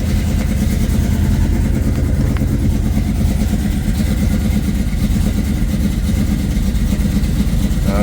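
A 1986 Oldsmobile Cutlass with a swapped-in LS V8 idles loud and close, giving a continuous, rough, throbbing rumble with a steady uneven lope that never lets up.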